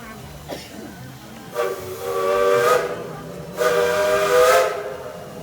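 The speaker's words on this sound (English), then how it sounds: "Those 2 whistles you just heard tell us that our engineer has received our all clear" Two long blasts of the Dollywood steam locomotive No. 192 whistle, loud and breathy, each held for about a second with hissing around them, signalling the all clear.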